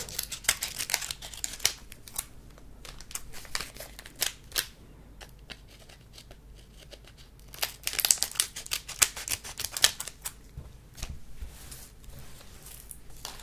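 Scissors snipping open Pokémon card booster packs, close and crisp, with irregular clusters of sharp cuts and crinkling foil wrappers, loudest around the start and the eight-to-ten-second mark, with no talking.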